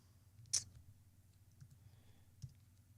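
Typing on a computer keyboard: a few sparse, quiet key clicks, one sharper tap near the start and another later, in a quiet room.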